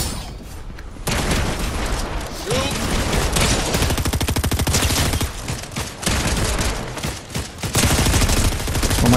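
Fortnite gunfire in a chaotic firefight, loud, near and almost continuous, with rapid automatic bursts and heavy shots layered over one another.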